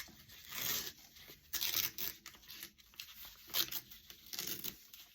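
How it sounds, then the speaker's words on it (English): Paper edges of an art journal sheet being torn by hand, a run of close, soft ripping strokes with brief pauses between them and a faint crinkle. "you could come in and just kind of rip all of the edges"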